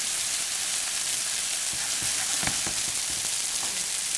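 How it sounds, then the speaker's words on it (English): A loud, steady sizzle as alcohol burns off over chicken in a hot pan, with a few faint clicks and crackles popping through the hiss. "what happens in the high heat is that the alcohol burns off."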